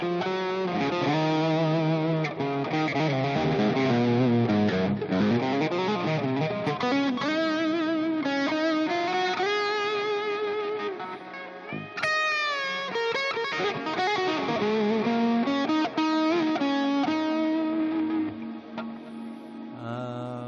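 Electric guitar played through distortion and swelling reverb effects, sustained chords and ringing melodic lines filling the whole stretch with a loud, continuous, washed-out tone, no talking.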